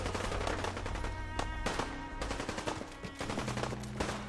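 Gunfire from super mutants in the Fallout 4 video game, bursts of automatic shots and scattered single reports crackling in an uneven rhythm, moderately distant and fairly quiet, with no talking.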